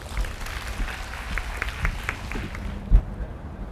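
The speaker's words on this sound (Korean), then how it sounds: "마지막으로 큰 박수로 청해 보도록 하겠습니다" Audience applause at the close of an operetta number from The Merry Widow, a scattered, moderate clapping from a live concert crowd that thins out toward the end, with a brief low thump near the close.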